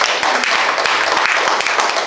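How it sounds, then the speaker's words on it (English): A speech contest audience claps steadily, a dense wash of many hands applauding together, close and loud for the whole moment. "One more round of applause for our fabulous contestants"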